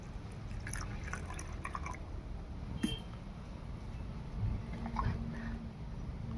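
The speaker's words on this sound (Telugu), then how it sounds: "సుగంధ వాటర్ పోసుకుందామండి" Sugandha water is poured into a sweetened milk drink, giving a soft, faint trickle and a few light drips against a quiet background with no talking.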